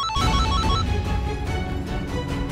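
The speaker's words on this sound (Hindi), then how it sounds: "पुष्पा जी आपके फोन से आवाज आ रही है" A phone ringtone plays as a loud, continuous electronic melody with repeating tones, filling the whole stretch without anyone speaking over it.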